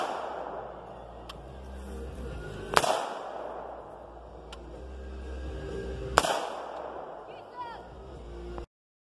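Two loud, sharp AR-556 rifle shots fired at a fiberglass bulletproof shield ring out several seconds apart outdoors, each with a short echoing tail, over quiet background noise and a few faint clicks.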